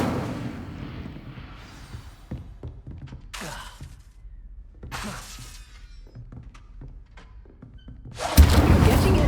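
The Incendio fire spell cast in Hogwarts Legacy, a series of magical whooshes and crackling bursts separated by short thuds, ending in a loud roaring flare of flame at the close.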